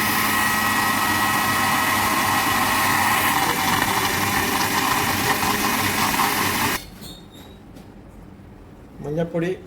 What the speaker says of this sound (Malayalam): 2 തക്കാളി മിക്സിയിലിട്ടുകൊണ്ട് അടിച്ചു കൊടുക്കാം